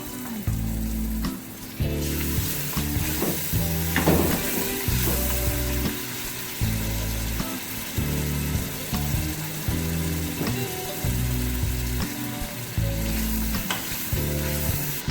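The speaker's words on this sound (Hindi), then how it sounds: "मसाला हमारा अच्छी तरह भुन चुका है" Masala cooked with yogurt for mutton bong paya fries loudly in a pan, a dense continuous sizzle with rhythmic pulses from repeated stirring, close and without talk.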